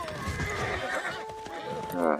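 Barbarian horse archers in the strategy game Civilization VI, with a horse whinnying and neighing near the start and again at the end, over soft hoof clops, while a person talks throughout.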